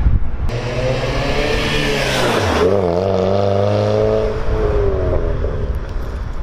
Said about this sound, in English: it makes a good little noise. And it's got a muffler delete on it.